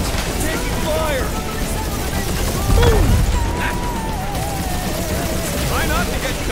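Rapid bursts of gunfire and explosive impacts from the Guardians of the Galaxy video game, dense and loud, with a swell of blasts partway through, set under a constant roar of flight, effects and music.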